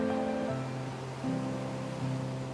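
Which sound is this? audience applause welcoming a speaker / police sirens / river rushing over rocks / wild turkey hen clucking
river rushing over rocks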